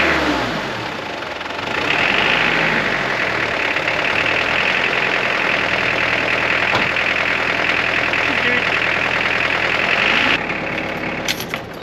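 A Mitsubishi Pajero Mk2 2.8 diesel with a freshly timed injection pump cranks, fires up and settles into a loud, steady, clattering idle close by, before the sound cuts off near the end.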